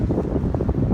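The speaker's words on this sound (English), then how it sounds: "And it's windy today." Gusty wind buffets the microphone outdoors at an old mill town metal-detecting site, a continuous loud low rumble with no talking.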